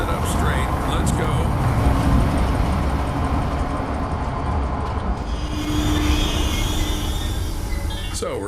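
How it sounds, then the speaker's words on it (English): A train in the Zoochosis video game rumbles steadily in the foreground, a continuous low mechanical drone with a brief tonal whine mid-way, carrying on loudly throughout without pause. "start the train"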